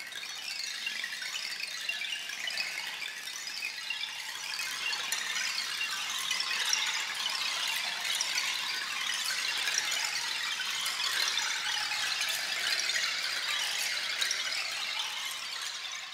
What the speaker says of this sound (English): this is the second piece that he's written only for the sound tools